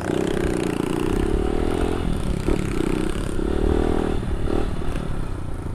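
A 50 cc minitrail motorcycle engine drones loudly and steadily at high revs as the rider accelerates, with some clatter and scraping along the way, close and continuous throughout.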